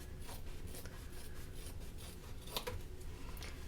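Faux leather is cut on a cutting mat, giving soft, close scraping and rasping strokes in an irregular rhythm, faint and with no talking.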